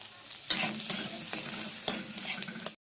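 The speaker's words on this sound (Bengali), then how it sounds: "এবার আমি ভালো করে ভেজে নেব।" Potatoes stirred and fried in a pan: a soft sizzle runs under a few sharp scraping strokes of a utensil against the pan, then everything cuts off abruptly.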